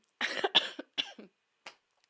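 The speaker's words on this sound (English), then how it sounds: "I'm like coughing up in here." A series of harsh coughs, several quick bursts close together, then a short pause and one final softer cough, close to the microphone.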